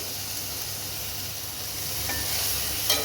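Salt and turmeric powder frying in a hot pan for capsicum rice, a steady bright sizzle that holds evenly, swelling slightly toward the end with a faint clink.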